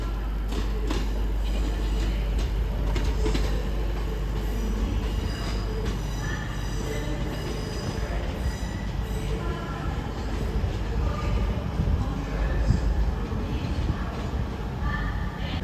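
An LNER Class 800 train pulls into Newcastle station, a loud, continuous rumble of wheels and traction with squeals and clatter over about fifteen seconds, close by on the platform.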